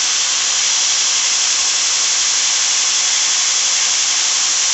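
A knife blade is worked against 100-grit sandpaper, a loud, steady rasping hiss that runs unbroken from start to finish with no talking.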